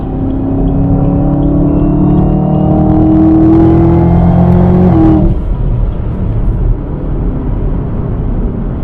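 A 2020 Chevy Camaro ZL1 1LE accelerates hard in a loud, sustained full-throttle pull, the engine note climbing steadily in pitch before cutting off sharply on the shift, leaving a rushing wind and road roar.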